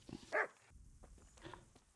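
A dog in the medieval game Kingdom Come: Deliverance barks once sharply, then gives a few softer woofs and a whine, close by against a quiet background.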